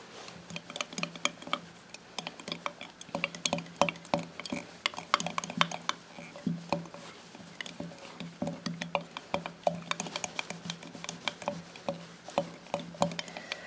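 Glue slime mixed with blue food coloring is stirred in a bowl, giving a steady run of quiet, sticky ticking and tapping sounds close by with no talking.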